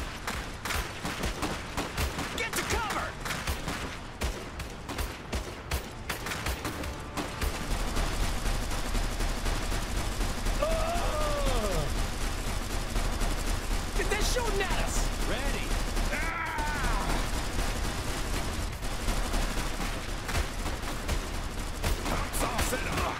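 Rifle gunfire rattles continuously in the strategy game Iron Harvest, dense volleys of shots over a steady battlefield rumble that grows heavier partway through, with occasional short voice barks from units.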